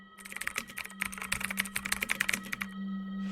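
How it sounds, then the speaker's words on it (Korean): Fast clacking keystrokes from a typewriter come in a dense, uneven burst, close and clear over a steady low hum, then stop, with no voices. "바로 타자기를 치기 시작했어요"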